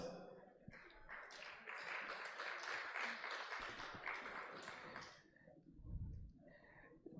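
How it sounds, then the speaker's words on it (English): Audience applause at a doctors conference swells for about four seconds and then fades, followed by a low thump and quiet room noise. "please can we give her applause?"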